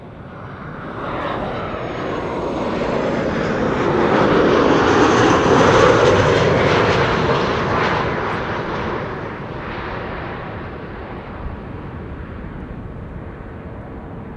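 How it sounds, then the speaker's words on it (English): A KLM Boeing 737-800 jet arriving from London Heathrow roars loudly overhead, swelling to a broad peak midway and then slowly fading into a steady distant rumble. "Incoming is KLM flight 1004 arriving from London Heathrow, 737-800"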